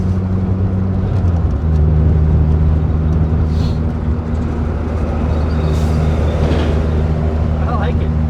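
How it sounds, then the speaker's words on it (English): A 1999 Mitsubishi Eclipse GS Spyder engine droning steadily through its intake, a low rumbling hum that rises slightly in pitch partway through, with a voice talking over it. "Oh, their intake really brings out the anger in this motor."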